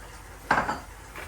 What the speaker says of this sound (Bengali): কড়াই বসাই দিচ্ছি একটু